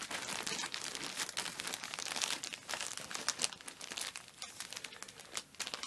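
Plastic packaging around a German Army parka liner is slit open and handled close up, giving a dense, continuous crinkling and crackling with brief tearing bursts throughout.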